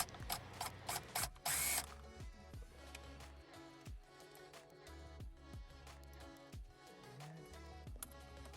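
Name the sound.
10mm Allen wrench bit removing steering wheel bolts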